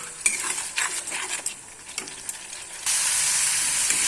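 Onion and tomato mixture cooking down in oil for a fish roe curry, a spoon scraping and clinking against the pan in irregular strokes, then a louder steady sizzle and hiss takes over near the end, with no speech.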